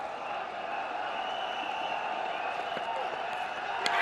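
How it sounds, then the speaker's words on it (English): Cricket stadium crowd at a Pakistan vs Sri Lanka T20 international, a broad steady hum of many voices with scattered claps, building gently and holding at a constant level, with a sharper burst near the end. "Crowd building up all the time."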